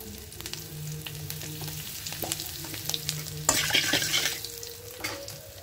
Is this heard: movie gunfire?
no